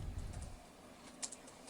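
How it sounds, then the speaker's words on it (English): Soft, quiet tapping on a computer keyboard, a short run of light keystrokes with one slightly louder click, heard alone over low background hiss. "My dad typing something super random."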